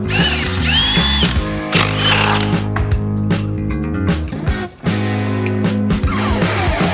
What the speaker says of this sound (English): The first thing we gotta do is get the clutch pulled apart.